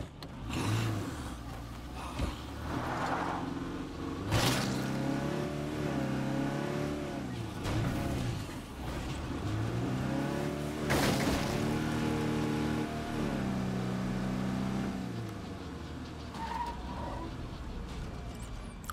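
A vehicle driving in State of Decay 2 with a modded nightmare zone, its engine rising and falling through several revs and gear changes at steady loudness, with brief bumps and clatter along the way.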